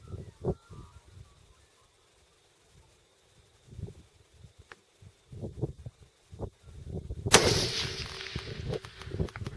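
A rifle shot fired at a steel target set at 761 metres, one sharp loud blast that gives way to a long rolling echo, with faint earlier pops and rustle before it.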